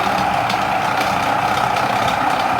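A 1000-watt food processor's motor gives a steady, continuous whir with a constant pitch, running loud and close without pauses for a few seconds.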